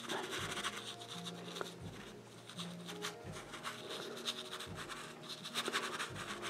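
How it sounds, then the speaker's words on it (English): Steady, repetitive scratchy rubbing of a dry brush blending paint on canvas, close and soft, continuing in a back-and-forth rhythm. "with a completely dry brush."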